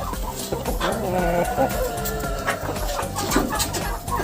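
Domestic turkeys in a home-kept breeding flock cluck and gobble during mating, a busy, fairly loud stream of overlapping fowl calls close by with no speech.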